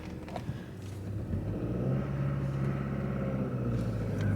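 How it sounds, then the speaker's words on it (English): A 5-speed car's engine idles steadily after a jump start, its low, even rumble running close and continuous throughout, with no one talking. "Car is running. It's actually running very well."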